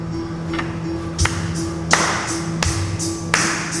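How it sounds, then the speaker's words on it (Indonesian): Single hand claps mark a steady musical pulse in a music lesson, five or six sharp, evenly spaced claps over a faint sustained hum. "menebak pulsanya dengan tepuk tangan"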